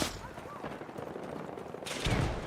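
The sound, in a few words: gunfire in the video game Battlefield 6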